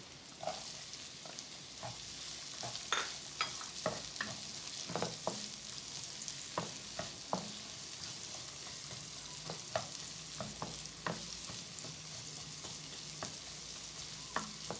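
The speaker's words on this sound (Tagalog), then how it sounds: "Let the onion to soften, and then can add the pork." Cubed onion frying in a pan for pork and beef menudo, a quiet steady hiss dotted with frequent small pops and crackles, alone without talk.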